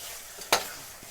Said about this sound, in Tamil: இப்போ கொஞ்ச நேரம் சிம்மில் வச்சு கொதிக்க விட்டுக்கோங்க.